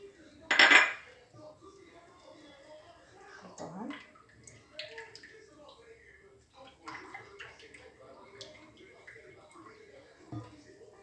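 A spoon stirs milk, yeast and sugar in a bowl, opening with a bright clink against the rim, then quieter scraping and tapping that drifts along at low level.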